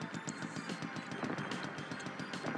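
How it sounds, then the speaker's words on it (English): Streams of rapid gunfire and missile launches fill a shoot-'em-up video game, Strike Gunner S.T.G., rattling in dense continuous bursts at a low, even level with no talk. "Why is there's just like 200 missiles just getting shot at us all at once?"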